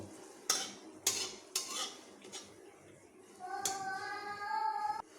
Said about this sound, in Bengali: ফোড়নগুলোকে একটু এইভাবে নাড়তে থাকব